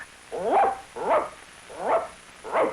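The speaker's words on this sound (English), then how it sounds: "That sounds like a dog." Four short barks at an even pace, each a sharp yelping burst with a pause between, fairly close and clear.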